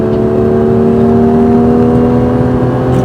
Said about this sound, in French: et élargis vers l'extérieur en réaccélérant, élargis bien, réaccélère